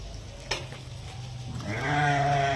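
Sheep on a farm bleat in the background, a flock of young ewes with a ram, with a louder, sustained bleat building near the end over steady low noise.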